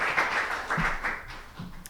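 Crowd applause at a dance and emerging technologies artist talk: a short, steady burst of clapping that stays fairly even, then thins slightly toward the end.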